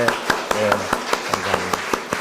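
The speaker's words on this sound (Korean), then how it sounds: "격려 박수 하도록 하겠습니다." Congregation clapping in encouragement during a Sunday worship service at a Presbyterian church, a fairly regular beat of claps at about four per second over a sustained hum, moderately loud.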